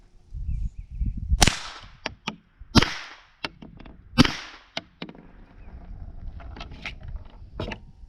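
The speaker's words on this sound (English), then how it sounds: "Do another 3 rounds of subsonic through the suppressor" A SilencerCo Octane 45 suppressor fires three subsonic rounds as muffled, sharp cracks about a second and a half apart, each followed by lighter mechanical clicks and faint background noise.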